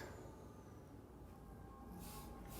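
Train rumbling past in a cartoon-style VR video game, a steady low rolling roar with a faint high squeal, heard alone at moderate distance.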